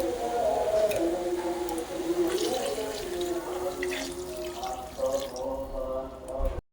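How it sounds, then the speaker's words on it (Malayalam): Hot water poured into a cooking pot of chicken curry with curry leaves, a trickling, bubbling pour that runs for several seconds and then stops abruptly. "ഇനി ഇതിലേക്ക് കുറച്ച് ചൂടുവെള്ളം ഒഴിച്ചു കൊടുക്കുക."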